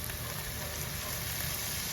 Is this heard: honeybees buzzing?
no